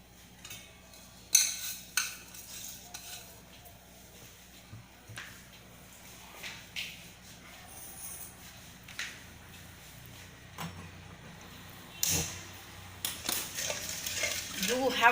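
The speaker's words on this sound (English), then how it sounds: "When the sugar dissolves, you have to keep on stirring it." Sugar syrup for Mysore pak stirred in a pan on the stove: soft intermittent scrapes and clinks of a spoon against metal, faint and sparse, with a louder stretch of scraping at the end.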